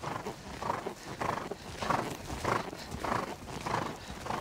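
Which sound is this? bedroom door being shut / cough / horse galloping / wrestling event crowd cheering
horse galloping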